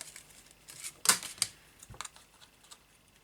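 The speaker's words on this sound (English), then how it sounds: "I'm going to cut the corner here and bring it across and cut the other one." Scissors cut the corner of a paper tag: a sharp crisp snip, then a second fainter snip and some soft rustling of the paper, close and quiet with no talking.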